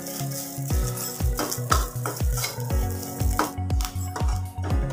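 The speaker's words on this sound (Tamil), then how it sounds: "நல்லா கலர் சேஞ்ச் ஆகி வரதாவது நல்லா தேங்காய் வறுத்துக்கலாம்." Grated coconut dry-roasting in a pan for garlic podi, with a steady rhythm of stirring scrapes and soft crackle, close and fairly loud, no talking.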